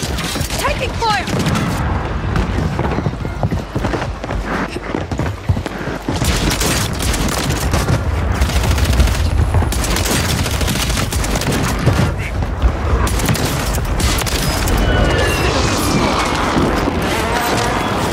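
Heavy gunfire in Call of Duty Warzone 3, including a Reclaimer-18 shotgun, with dense rapid volleys, blasts and booms close and loud throughout, mixed with game effects.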